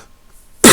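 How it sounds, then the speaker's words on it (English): A man coughs once, sharply and close, in a single loud burst after a stretch of near silence. "And I'm going to cough."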